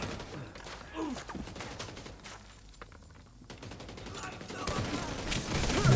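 Rapid automatic AK rifle fire in a video game, moderately quiet and continuous in the background, building slightly toward the end.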